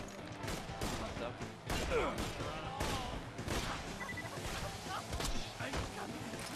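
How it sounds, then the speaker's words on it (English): Gunfire in the video game Borderlands 2 after switching to a sniper rifle: a series of sharp, loud shot bursts at irregular intervals, with crashes and impacts between them. "Switching to the sniper rifle."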